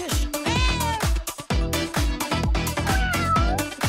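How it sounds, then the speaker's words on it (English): A domestic cat meows several times, with drawn-out cries rising and falling over a steady, rhythmic low beat that pulses throughout. "Grab that cat."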